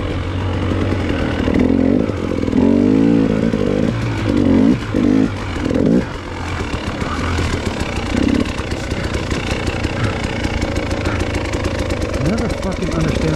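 A KTM motorcycle runs on a track, its engine a loud, continuous buzzing drone that rises and falls through throttle changes, with a voice talking over it.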